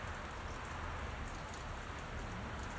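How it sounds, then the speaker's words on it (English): Heavy rain pours steadily at about 9 degrees Celsius in snowless weather, making a dense, even hiss of drops drumming on surfaces. The sound is continuous and close, with no talk over it. "It's raining quite heavily right now"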